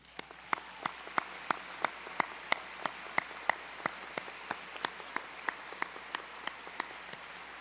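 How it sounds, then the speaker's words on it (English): At a university convocation, the audience applauds graduates with sustained, fairly distant hall applause, steady and even, topped by a regular series of sharp nearby claps. "So let's start with a round of applause for you all."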